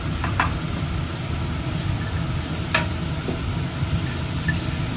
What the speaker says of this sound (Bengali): দিয়ে নাড়াচাড়া করে নিচ্ছি ভালো করে যাতে মশলাটা আলু পটলের গায়ে যেন লেগে যায়